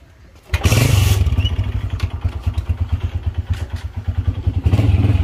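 A motorcycle engine starts up with a loud burst, then settles into a steady, rapidly pulsing idle close by, with a brief clatter near the start.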